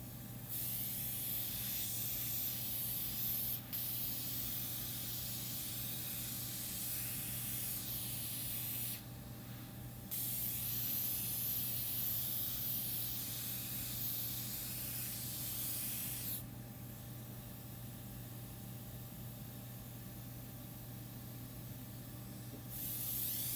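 A fine water spray rinses a face during a facial treatment, giving a close, steady hiss that runs for long stretches and stops briefly twice, under a constant low hum, with no talking.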